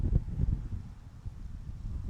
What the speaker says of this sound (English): That gust is just picking up.